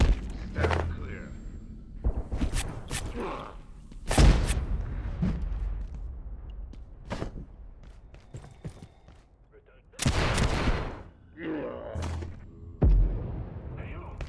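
Frag grenade explosions in the video game Abiotic Factor, several loud booming blasts spread over the span amid gunfire-like cracks and game noise, with a voice talking at times.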